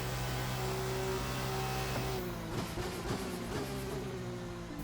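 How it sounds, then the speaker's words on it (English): A twitchy single-seater race car in Assetto Corsa drives through wet conditions, its engine droning steadily at high revs. Mid-clip it drops into a series of quick downshift blips, loud and close, with no talk. "driving a twitchy single-seater in these conditions is really good fun"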